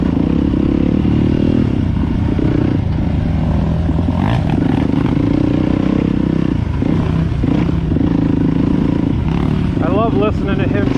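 A Honda CRF150F dirt bike rides over rocky, choppy trail, its engine rising and falling through gear changes amid clattering and scraping, with voices talking over the ride.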